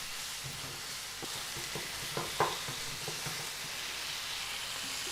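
Chicken seasoned with berbere fries in a pan, giving a steady, moderate sizzle with faint stirring clicks and scrapes around the middle, no voices.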